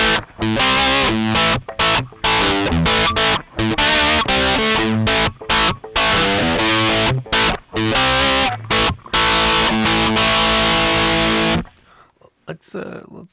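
Electric guitar run through the distortion effect of a tiny Ammoon Pockrock processor, with loud, heavily saturated chords hit in choppy bursts with short gaps, then fading to quiet handling noise near the end.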